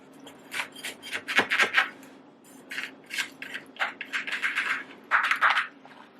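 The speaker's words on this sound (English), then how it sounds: "I'm just going to cut a slice for myself." A knife cuts a slice of Italian Easter wheat pie, giving close, soft scraping and crumbly rasps in short irregular strokes against a low background hum.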